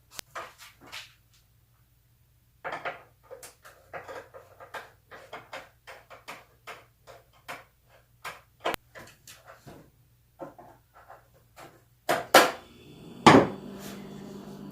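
A flat screwdriver loosens a bolt on a Husqvarna 125B leaf blower, producing a close series of sharp plastic-and-metal clicks and knocks in an irregular rhythm, ending with louder clattering handling noises.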